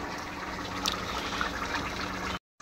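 Rice boils in a pot on the stove with a steady close bubbling and watery hiss that carries on unbroken for a couple of seconds before cutting off.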